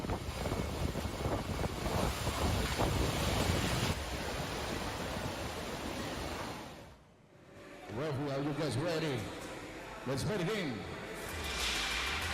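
Strong wind in Aceh at a sports venue complex buffets the microphone with loud, rushing gusts for several seconds, then drops away as people talk, with wind noise returning faintly under the voices.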